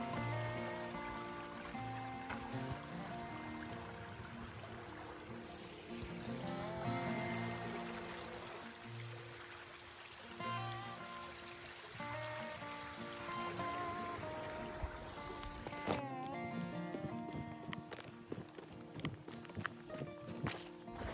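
Creek water flows steadily beside a campground driveway, a soft continuous trickle with faint footsteps and small knocks over it, quiet and fairly close.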